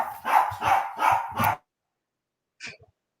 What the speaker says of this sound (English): I have a dog, and as you can see, Lassie is loud